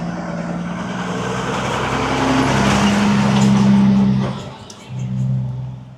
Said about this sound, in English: sorry, car passing here